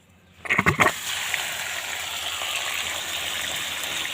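Water gushing and splashing as a catfish pond is drained, a brief burst of splashes at the start giving way to a steady, close rushing flow.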